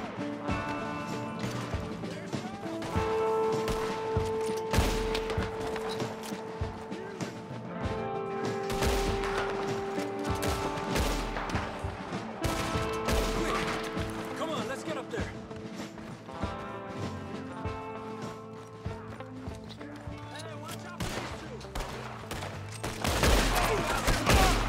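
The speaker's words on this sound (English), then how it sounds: "Shooting at me." Sustained gunfire shootout in the video game Red Dead Redemption 2, with bursts of shots, crashes and rattling mechanisms over a continuous bed of game music and background voices throughout.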